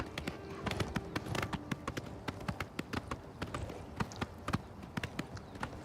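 Horse hooves clip-clop steadily while riding in the video game Oblivion, a brisk run of sharp taps at close range with a soft background hum.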